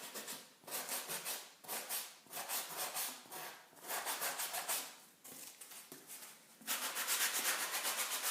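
Green Scotch-Brite scrubby rubbed over a cardboard relief sculpture, rhythmic rough scratching strokes in quick bursts with short pauses, close and clear with no talking.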